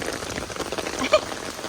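Steady, heavy wind-driven rain patters hard on an umbrella, a dense unbroken hiss for the whole stretch.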